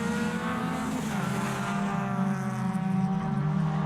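Suzuki Swift Sport rallycross car blasting away from a hairpin during a British Rallycross Championship race, its engine rising hard in pitch as it accelerates, loud and fairly close, with no voices over it.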